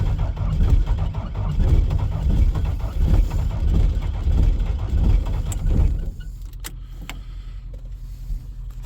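A diesel truck engine with possible glow plug trouble is cranked by its starter in snowy weather: about six seconds of loud, rhythmic churning pulses, then the cranking stops and a few faint clicks follow.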